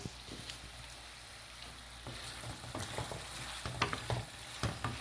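Chicken sizzles and crackles in a pan with ground onion and green chili, a soft steady frying hiss broken by scattered stirring clinks and pops, heard alone without talk.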